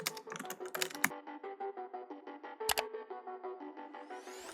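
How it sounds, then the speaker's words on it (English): Fast clicking keystrokes on a computer keyboard, close and fairly quiet, in a steady rapid stream with a few sharper taps, no voices. "In the search bar, I'll type Python and install it."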